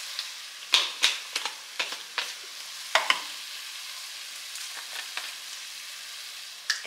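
Browned ground beef fries in a pan with a soft, steady sizzle, broken by sharp crackles and pops and a few louder scraping stirs near the start.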